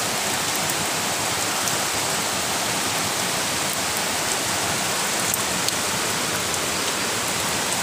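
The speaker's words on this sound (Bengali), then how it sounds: "মুষলধারে বৃষ্টি হচ্ছে" A heavy downpour pours down in a continuous, dense, close-up roar of rain with no pauses and no voices.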